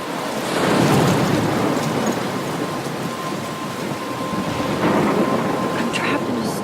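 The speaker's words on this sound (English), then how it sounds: "I'm trapped in a storm?" A thunderstorm in the video game Life Is Strange gives steady heavy rain with a broad rumbling roar and occasional thunder swells, dense and continuous throughout.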